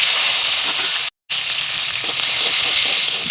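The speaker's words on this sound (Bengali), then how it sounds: "এরপর আমি ক্যাপসিকামটা ভেজে নেব।" Capsicum fries in oil in a wok with a loud, steady sizzle and hiss, close by, broken by one brief moment of silence.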